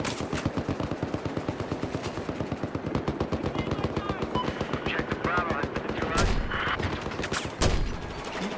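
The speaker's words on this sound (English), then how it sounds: "guy on a mounted machine gun at Alpha who's just shredding me." A mounted machine gun fires in a war video game as a rapid, unbroken stream of loud shots, with a couple of heavier blasts near the end and faint talk under the gunfire.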